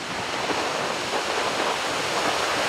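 Loud, continuous roar of Adriatic Sea waves, several metres high in a storm, crashing and churning close by, with wind buffeting the microphone throughout.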